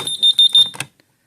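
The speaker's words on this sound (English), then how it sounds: "press the ready button and it will stop beeping" Rapid high-pitched electronic beeps from a home alarm system in short bursts, loud and close, repeating several times before stopping abruptly.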